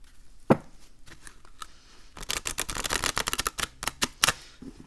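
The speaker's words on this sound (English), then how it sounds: "let us give this deck a shuffle." A tarot deck riffles and snaps in a quick rapid flurry, preceded by a few scattered soft taps and slides of the deck, close and crisp.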